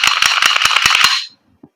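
An Umarex Glock 17 Gen 5 MOS gas blowback airsoft pistol by GHK fires a rapid string of about ten loud, crisp snapping shots close by, then stops, followed by a faint click and silence.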